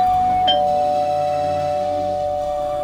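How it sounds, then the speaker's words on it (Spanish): A single doorbell chime rings once near the start, its bright tone sustained and slowly fading over a steady low background hum, with no voices. "Escuché el timbre sonar 1,"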